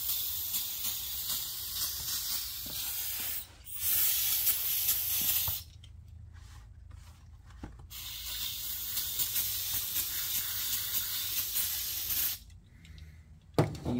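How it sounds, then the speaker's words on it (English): Cleaner sprayed onto an old Craftsman riding mower, a steady broadband hiss in long sustained bursts broken by short pauses, close and loud with no talking. "spray her down there a little bit."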